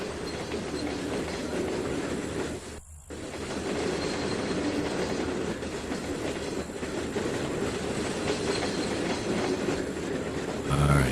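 Loaded crude oil tank cars rolling past in the Trainz 2019 rail simulator, a steady, loud, continuous rumble of wheels on track with faint rhythmic clatter and a brief dip near the start.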